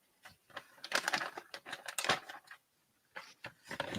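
Paper mail envelopes being opened and shuffled close by: irregular papery rustles, tears and flicks in bursts, with a short quiet gap before more rustling.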